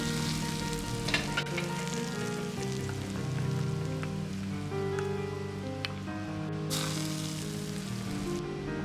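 Hot oil at moderate heat poured over seasonings in a small bowl for a cold glass-noodle dish, giving a dense, continuous crackling sizzle with light stirring clinks; close and steady, with a brighter burst of hiss near the end.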